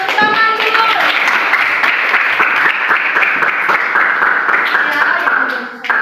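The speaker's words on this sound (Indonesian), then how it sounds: "Tepuk tangan dulu." Classroom audience applause, steady dense clapping filling the whole stretch, loud and close, tapering slightly near the end.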